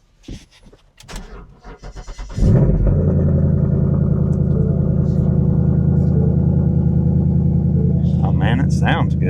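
A car engine with some unknown fault cranks and starts after a few seconds, then settles into a steady, loud, close idle that runs to the end with a slightly flat tone.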